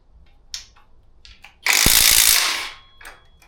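A ratchet socket wrench works on a Chevrolet Blazer engine, giving a sharp burst of rapid ratcheting clicks close up after a few lighter metallic taps, then brief tool handling.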